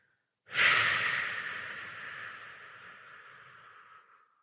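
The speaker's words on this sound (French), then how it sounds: "si vous prenez une longue inspiration, idéalement par le nez, et que vous prenez une encore plus longue expiration par la bouche" One long breath is drawn in through the nose and then let out slowly through the mouth. The sound is close and airy and fades gradually over several seconds, with no talking.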